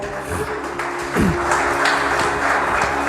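A church congregation applauds during a worship service, a steady wash of clapping that holds at an even level throughout, with a faint tonal backing underneath.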